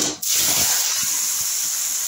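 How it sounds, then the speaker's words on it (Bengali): Papaya pieces hit hot oil seasoned with bay leaves and five-spice, bursting into a loud, continuous sizzle right after a brief dip, close up and steady with no talking. "এর মধ্যে আমি পেঁপেগুলো ঢেলে দিচ্ছি।"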